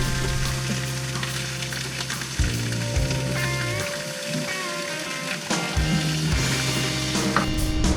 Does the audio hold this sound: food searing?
yes